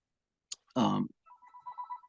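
A telephone rings indoors during a conversation: a short chirp, then a loud ring burst, followed by a softer repeating electronic tone, with no talk over it.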